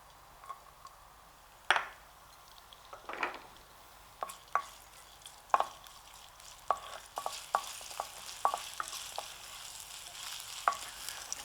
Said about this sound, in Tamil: நெய் நல்லா சூடான உடனே நறுக்கி வச்ச இஞ்சியை வந்து போட்டுருங்க.